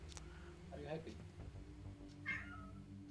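A cat meows a few times, one short call and then a louder, drawn-out one, heard close over a low background hum.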